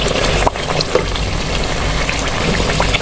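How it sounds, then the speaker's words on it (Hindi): Onions frying in a pot with whole spices such as black peppercorns and mace, a steady loud sizzle with small crackles and a brief stir near the start, no voices. "इधर हमारा प्याज भुन रहा है"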